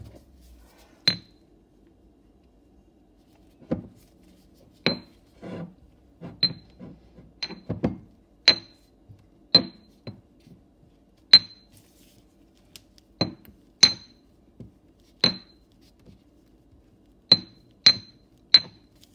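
Crushed blush is stirred in a dish, giving a string of sharp, bright clinks and taps at an irregular pace, some loud and some soft, against near silence.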